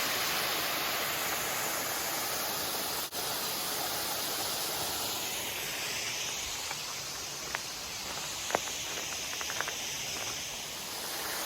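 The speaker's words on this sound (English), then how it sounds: "the waterfall you see here is the Bon Ami waterfall" The Bon Ami waterfall at the Emerald Village mine gives a steady, loud rushing hiss of falling water that fills the whole scene, with a few faint clicks and taps near the end.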